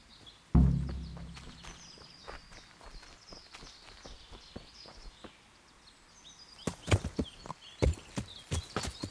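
Horse hooves clip-clop in the medieval game Kingdom Come: Deliverance, a soft thud at first, then a quicker run of sharp hoofbeats growing louder toward the end.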